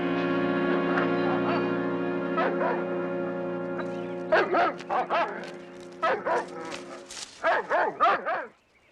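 Several upset dogs bark and yip in short bursts, one of them sick, rising in the second half over a steady background hum inside a house during a detective drama scene.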